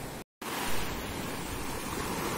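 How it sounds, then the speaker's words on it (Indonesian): Ocean waves on a beach make a steady, broad surf roar with some wind, continuous and fairly soft after a brief dropout at the start. "Wih, lihat tuh ombaknya tuh teman-teman."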